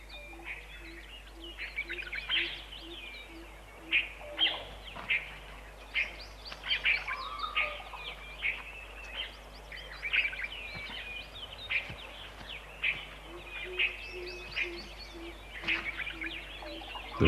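Monal pheasant calling in a Himalayan forest in winter, with repeated sharp, high calls in irregular bursts over a faint low hum, moderately close and with no talk.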